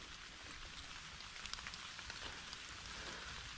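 Steady rain patters on surfaces nearby, a dense hiss of drops with a few louder individual taps, and no one speaking.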